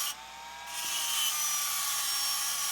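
A power tool cuts through metal near the axle of a Ferrari 550 Maranello under restoration, a loud continuous high-pitched grinding whine that builds after a brief dip and then holds steady, with no talking.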